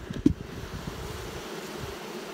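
Honey bees crowd across the frames of a hive box during an inspection before the honey pull, giving a steady, soft, close buzz with one brief knock near the start.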